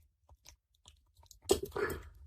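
A dog eating its breakfast gives a few faint soft bites early on, then a louder burst of close crunchy chewing near the end, with no talking.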